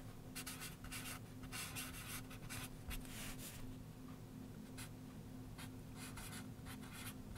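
Pen or pencil writing on paper, a string of quiet scratchy strokes in short bursts with brief pauses between words, close and faint against a low steady hum.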